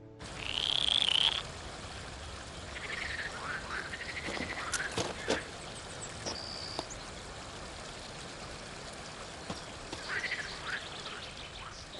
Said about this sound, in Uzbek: qurbaqalar bugun biroz g'alatroqmi?